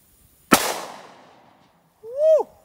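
A single .357 revolver shot fired at a bulletproof backpack outdoors, one sharp, loud crack with a fading tail, followed by a short whooping voice.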